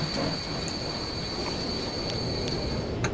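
Train wheels squeal in the video game Transport Fever 2, a sustained high-pitched metallic whine over a steady rolling rumble of rail cars, with faint rhythmic clicks, continuous and fairly close throughout.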